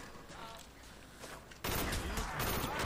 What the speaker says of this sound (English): I've been shooting him right in the head